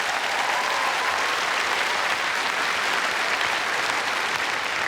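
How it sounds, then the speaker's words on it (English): Steady, dense applause from a crowd, many hands clapping continuously at an even level with no voices standing out. "Round of applause for my teammates Dulcé, Sloan and Rich Hall."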